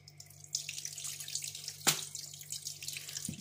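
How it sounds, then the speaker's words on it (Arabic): Raw chicken is rinsed and drained under a running kitchen tap, a steady close wash of water hissing into a sink with a sharp splash partway through and no voices. "هصفيها كده من الميه دي بقى واشطفها كمان شطفه"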